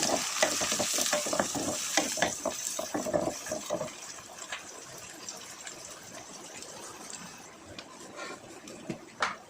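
Curry leaves hit hot oil for a prawn biryani and crackle into a loud sizzle, with spatula stirring at first before the frying settles into a steadier, quieter hiss with scattered pops.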